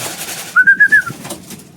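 Racing pigeon returning from a 188 km race at Buenavista, Quezon, giving a short close rolling coo of about four pulses over quiet background.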